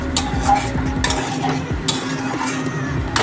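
Potato curry being stirred and sautéed in a pan with salt, a rhythmic run of scraping spoon strokes and clanks against the pan over a low sizzle.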